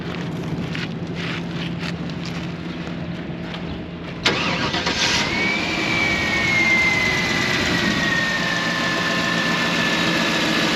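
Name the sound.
car engine starting and idling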